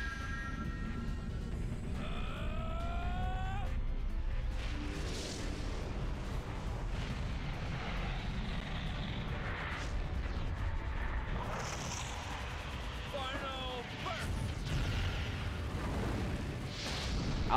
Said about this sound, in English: The final explosion.